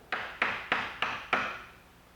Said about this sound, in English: the inside line is best done with a gouge